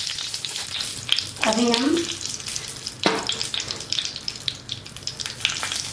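Stuffed brinjal frying in oil, a loud steady crackling sizzle with a few scraping knocks and a brief spoken word partway through.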